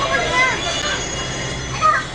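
A metro train pulls into Ghaziabad station, the last stop on the line, with a steady rolling rumble, faint wheel squeal and brief metallic screeches near the start and end, heard without anyone speaking.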